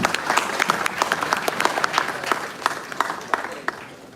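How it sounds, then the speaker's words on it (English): Audience at a college event hall claps in steady applause, a dense patter of many hands close to the mic, with sharper individual claps standing out and some crowd voices underneath. "Round of applause for all of you."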